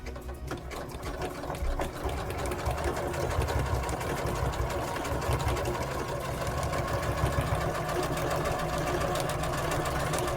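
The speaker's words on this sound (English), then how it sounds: "when you're sewing with these decorative stitches, you have to let the machine move the fabric" A sewing machine runs steadily through decorative stitches on a lined couture patch pocket, a loud, continuous rapid whirr and needle clatter lasting the whole stretch with no talking.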